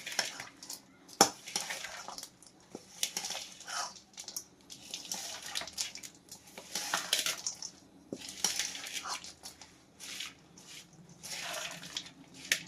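Dry fruit, jaggery-free laddu ingredients and spice powders such as nutmeg, dry ginger and cardamom being mixed by hand in a dish, soft repeated scraping and clinking, quiet and close.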